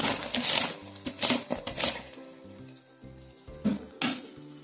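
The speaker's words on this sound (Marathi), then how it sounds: "यानंतर आणखी अर्धा चम्मच तूप घालू, थोडी कोथिंबीर घालू आणि फ्राय केलेला हा कांदा आता पूर्ण घालू" Ghee, coriander and fried onion go into a pot of chicken dum biryani, giving short bursts of sizzling with clattering spoon and pot contact, close and intermittent, without talk.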